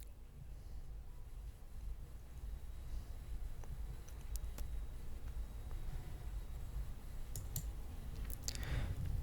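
A computer mouse clicks a few times while someone checks for Windows 11 updates. The sharp, isolated clicks come at irregular intervals, faint and close over a low, steady background hum, with no talking.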